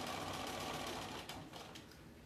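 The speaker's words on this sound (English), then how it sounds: "So I'm going to start sewing this around" Sewing machine stitching around a reversible fabric basket, its motor whirring steadily at close range with a brief slowdown partway through as the fabric is adjusted.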